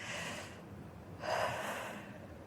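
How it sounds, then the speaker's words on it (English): Deep breaths taken during a relaxation exercise in a group fitness session, one long inhale followed by a fuller exhale, close and fairly soft with no talking. "We're going to take a couple deep breaths, let our legs relax. Breathe in."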